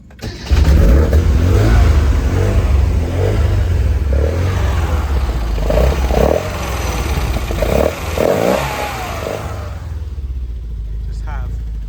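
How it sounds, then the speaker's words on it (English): A cold Mini with a 1380cc engine starts and idles roughly with a rattly cam, giving a loud, close, uneven mechanical clatter and a few gentle blips of revs before settling toward quiet. "It is cold, so I don't want to rev it too much, but listen to the rattly cam."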